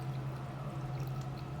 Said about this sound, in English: Can't even tell that's flushing.